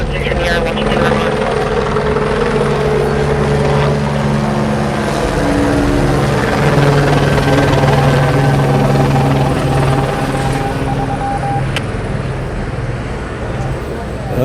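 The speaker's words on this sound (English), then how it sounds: "Helicopter made a weird ass sound right now." A helicopter flies overhead at night in Los Angeles, its loud, throbbing rotor drone filling the scene with a stuttering, uneven pulse, while traffic rumble stays underneath.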